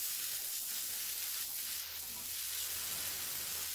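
Vegetables sauté in a hot pan with a continuous, dense sizzle and crackle, steady and close throughout, with faint stirring movements underneath.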